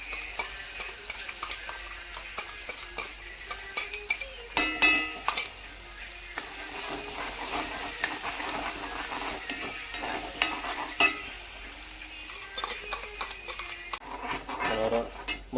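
Gravy for paneer butter masala sizzles in a pan while it is stirred, with frequent scrapes and clinks of a utensil against the pan over a steady hiss and no talk.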